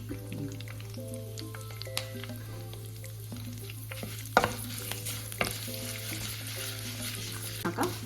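Steady sizzling of asafoetida frying in hot oil, with occasional stirring clinks and a constant low hum underneath.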